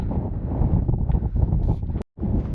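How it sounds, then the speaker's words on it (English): Strong wind on a hilltop buffets and roars against the microphone in continuous gusts, loud and close, with a brief dropout near the end. "It's very windy up the top here today"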